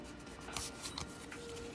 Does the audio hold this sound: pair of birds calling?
no